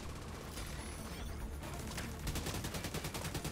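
Sustained machine-gun fire from a heavy gunner in The Division 2 video game, dense overlapping bursts that grow louder and more rapid toward the end.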